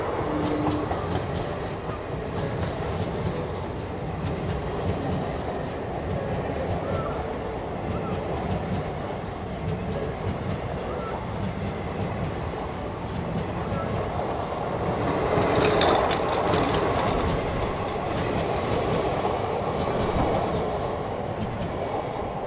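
The Puri Valsad Express rolls along the rail line on the Ratlam route in India, a continuous rumble with rhythmic wheel clatter that swells louder for a stretch before settling back.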